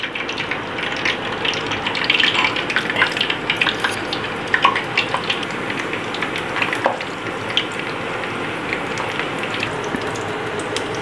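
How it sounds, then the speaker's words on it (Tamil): An egg samosa deep-frying in hot oil gives a continuous bubbling, crackling sizzle that holds steady and close with small pops scattered throughout. "அடுத்து நம்ம ஒரு ஒரு சமோசாவை போட்டு பொறிச்சு எடுத்துடலாம்."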